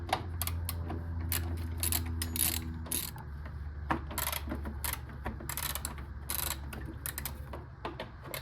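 A ratchet clicks in quick runs while screws come out of the engine flange on an AE86 with a 4A-C engine, close and crisp, with short pauses and a low hum underneath.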